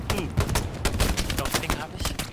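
Rapid automatic weapon fire and scattered shots in the WWII shooter game Hell Let Loose, with sharp bursts layered over a busy battle din and some voices underneath.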